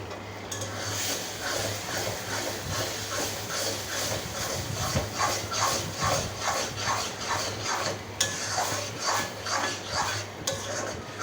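Pointed gourd peel with shrimp stirred and fried in a pan, with close, rhythmic scraping and shuffling strokes over a steady sizzle, no talking.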